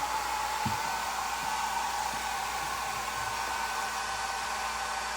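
A hair dryer blows steadily on wet paint during an icon-painting workshop, a loud continuous close whoosh with an even whine that holds for the whole stretch, with no voices.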